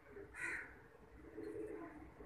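A pigeon gives a soft, low coo up close in a quiet space, a brief murmuring call heard twice with a faint higher chirp between, no talking.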